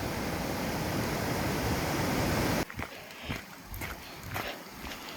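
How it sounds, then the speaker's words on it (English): Water rushes at Gatton Creek Falls in the Quinault Rain Forest, Washington, during steady rain: a loud, dense, continuous roar fills the first half, then drops abruptly to a quieter wet ambience with scattered taps and thumps. "Love the sound of running water, even when you can't really see it."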